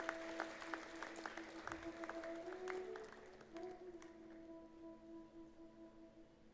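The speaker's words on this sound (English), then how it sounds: "A big round of applause." Applause from an audience at a university inauguration ceremony, a steady patter of clapping that fades out over several seconds, fairly faint with a sustained tonal hum underneath.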